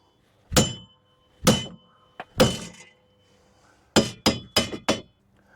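A hammer strikes the wheel hub on a 2011 Chevy HHR being removed for a wheel bearing job: three sharp metallic blows with ringing decay, a light tap, then four quicker hits in a row.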